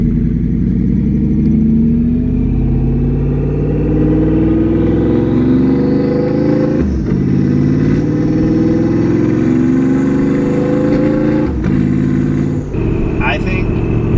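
A Porsche Panamera Turbo with side exhaust revs loud and close, its engine tone climbing and dropping through rev-matched downshifts in a continuous, throaty roar.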